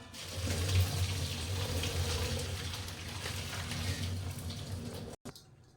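Water drains from a cooking pot, pouring and splashing steadily for several seconds, then cuts off abruptly, leaving near silence.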